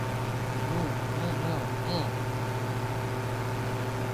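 Steady droning hum of airplane engines in a flight simulator video game, a constant tonal whine with faint fluctuations, heard alongside talk.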